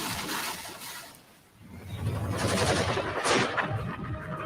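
Loud booming blasts with rumbling, crackling bursts in a Chinese military commercial, a brief lull, then a heavier explosion near the end, dense and continuous.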